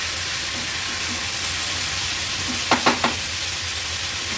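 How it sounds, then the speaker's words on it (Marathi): Vegetables with tomato and salt are stirred in a hot pan, giving a steady sizzling hiss throughout, with a few brief spoon scrapes near the end, close by and without speech. "पुन्हा एकदा भाजी व्यवस्थित मिक्स करून घेते"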